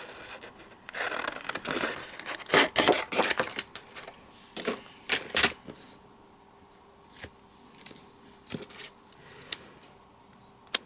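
Scissors snip paper down to size at a crafting table, a series of crisp, close cutting strokes with rustling paper between them, irregular in rhythm.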